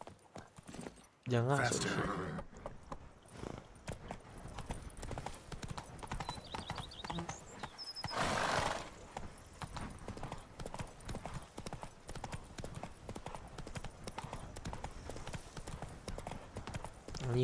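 Roach, the horse in The Witcher 3, clip-clopping at a gallop in rapid rhythmic hoofbeats that continue steadily throughout, with a brief loud burst early on and a whoosh midway, while someone speaks briefly over it.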